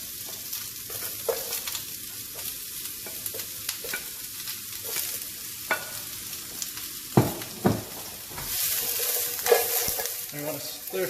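Onion and crushed garlic stir-frying in a wok for chow mein, a steady sizzle broken by scraping stirs and sharp utensil clacks, growing louder near the end.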